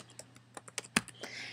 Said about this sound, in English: and I'm going to start typing.